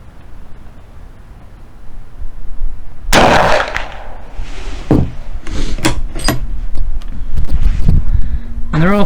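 A rifle shot from a .43 Mauser fireforming brass made from .300 Win Mag cases, loaded with 85 grains of black powder, lands as a single loud, sharp blast with a long rumbling tail, followed by scattered knocks and handling noise outdoors.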